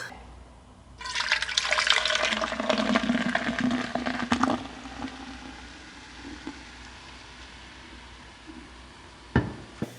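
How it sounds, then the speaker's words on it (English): Monaco Cocktail Blue Crush drink poured into a glass, a steady close fizzing splash that lasts a few seconds, then fades into soft crackling bubbles with a faint clink near the end. "We're gonna pour on in here."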